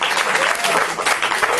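Loud, dense applause from a crowd, continuous clapping filling the whole moment.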